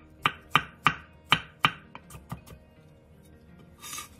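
A knife julienning a cucumber on a cutting board: five sharp, evenly spaced chops close up, then a few lighter taps that fade out.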